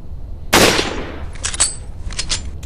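Rifle shots from Resident Evil 4 on PC: one loud, sharp crack with a decaying tail, followed by a cluster of quicker, fainter reports and metallic clinks, heard alone without talk.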